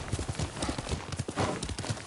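Horse hooves clip-clopping in the video game Ghost of Tsushima, a quick uneven run of close, distinct hoofbeats with a faint snort near the end.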